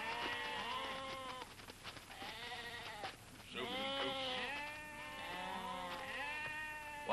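Several goats bleat in overlapping, wavering cries, close and loud, with short gaps between bursts, in the kung fu film Fist of Golden Monkey.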